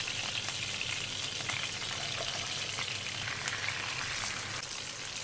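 Pieces of fish frying in very hot oil for pickled fish, giving a loud, continuous dense sizzle with fine crackling pops throughout, close and steady with no talking.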